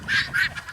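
Guinea fowl on a homestead calling in a short burst of harsh, rhythmic cries, two loud calls close together with a third trailing off, nearby and alone.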